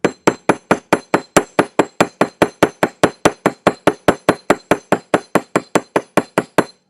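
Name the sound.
hammering a metal jewelry blank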